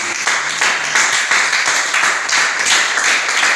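A church congregation applauds and cheers at a Friday worship service, with loud, continuous clapping in rhythmic pulses and rising voices, close and full throughout.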